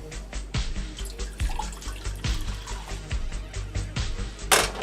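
Water runs and splashes into a pot in a kitchen as two cups are poured for cooking instant noodles, with soft gurgling and a few dripping, uneven spurts.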